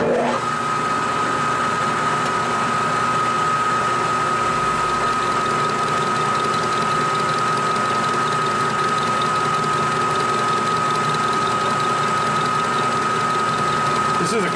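A lathe turns at 300 RPM while a coated insert cuts aluminum, giving a steady, loud mechanical hum with a sustained whine that runs unbroken and close throughout.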